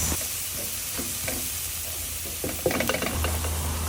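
Garlic and onion sautéing in a pan, a steady close sizzle broken by a few spatula scrapes and knocks as the pan is stirred.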